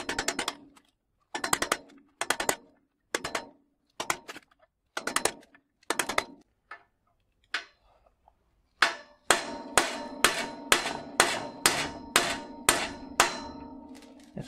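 Hammer blows strike an old bicycle's seized bottom bracket, first in spaced single metallic knocks, then a fast steady series of sharp, ringing impacts close to the microphone.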